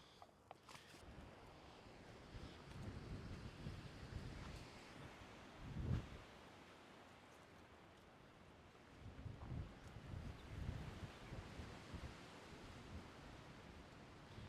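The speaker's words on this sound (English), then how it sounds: "gotta hold on to the camera, make sure it's not gonna get blown over. It's literally that windy right now." Strong wind buffets the microphone in a steady low roar, with heavier gusts surging around the middle and again later.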